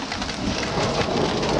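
Small hail and a thunderstorm pound down outside a shop, a dense, loud wash of rain and hail hitting surfaces with rumbling thunder underneath, continuous throughout.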